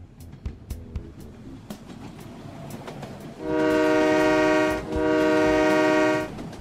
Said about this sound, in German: Der Zug kommt gleich.